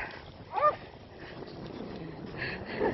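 Dogs out at the water's edge give a couple of faint yips and whimpers, distant and quiet against soft outdoor background noise.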